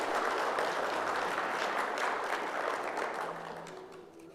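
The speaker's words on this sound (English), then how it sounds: "Round of applause." Audience applause fills a hall at the 2022 Miss Navajo Nation pageant, a dense, even wash of many hands clapping that holds steady and then slowly fades toward the end.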